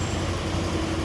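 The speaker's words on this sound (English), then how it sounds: "these commuter rail coaches are not a smooth ride at 79 miles per hour" A Tri-Rail commuter rail coach rattles and rumbles at 79 miles per hour on a downtown Miami express run, giving a loud, steady, dense roar of interior noise with no talking.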